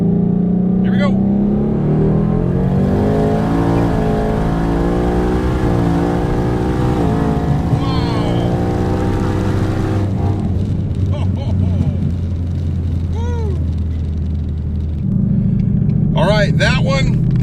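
Twin-turbo Mustang at full throttle on a 60-130 mph pull, a loud sustained engine roar rising in pitch through several gear changes, then easing off near the end.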